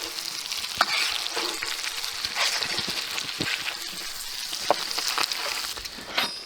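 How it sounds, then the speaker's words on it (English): Steak searing in a pan of hot butter with thyme and shallots over coals, being basted continuously: a dense, bright sizzle with spitting crackles and occasional spoon scrapes throughout, no talk. "And what you're trying to do with the butter is submerge the steak in and continually replace hot butter on the top, basting it"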